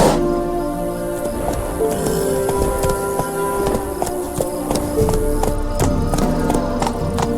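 In The Witcher 3, Geralt's horse Roach gallops with steady, rhythmic hoofbeats throughout, close and prominent over a layer of in-game ambience.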